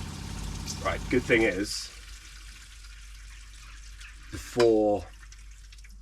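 Cold water runs briefly from a campervan kitchen tap in a Transit conversion, a short splashing burst into the sink following a man's speech, with faint drips and a quiet hum between.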